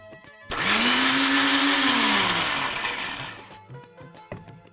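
A kitchen blender crushes blanched spinach with cold water into puree, starting abruptly with a loud whirring roar that holds steady, then dips in pitch and fades out, followed by a few faint knocks.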